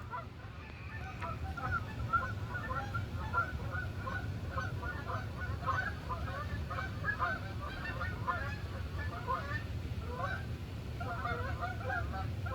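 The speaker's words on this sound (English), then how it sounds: "Geese flying over." Many geese honk continuously overhead in a noisy chorus, steady and moderately loud over a low rumble of wind.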